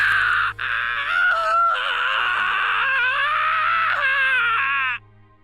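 A woman in the visual novel Grisaia no Kajitsu lets out a long, piercing, wavering scream that breaks briefly near the start and then holds, shrill and close, for several seconds before cutting off abruptly.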